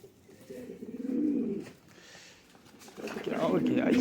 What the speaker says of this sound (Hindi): ये है माशाल्लाह उस्ताद आज़ाद भट्ट से लिए हुए टेडी कबूतर हैं।